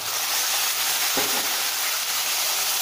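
Small shallots and tomatoes sauté in a pan with a continuous, even sizzling hiss and a single soft stir or scrape partway through, heard close with no voices.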